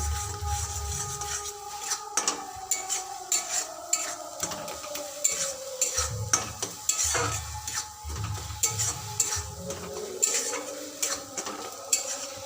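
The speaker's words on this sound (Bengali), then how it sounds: "পোস্তটা দিয়ে ভালো করে মিশিয়ে নেবো" A spoon stirs pointed gourd with poppy seed paste in a pan, giving repeated scraping and clinking strokes over a faint sizzle, close and moderately loud with no talking.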